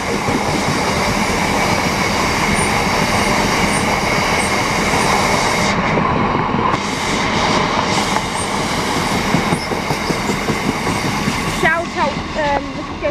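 A class 66 freight locomotive, number 66006, passes West Ealing station on the Great Western Main Line, a loud sustained rumble of engine and wagons with rhythmic wheel clatter and brief squealing toward the end, close at hand.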